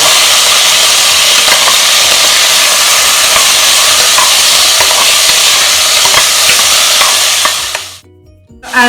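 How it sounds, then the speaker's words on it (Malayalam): Beans and carrots sautéing over a high flame make a loud, dense, continuous sizzle with stirring scrapes, which cuts off abruptly near the end. "ഇതൊന്ന് ഹൈ ഫ്ലെയിമിൽ വെച്ചിട്ട് നമുക്ക് ഒരു 2 മിനിറ്റ് ഒന്ന് സോട്ട് ചെയ്യണം"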